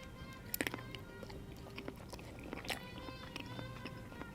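Someone bites and chews crunchy shrimp in cream sauce with ham in Cajun Creole cooking, with close, quiet crunches and several sharper bites spread through the chewing.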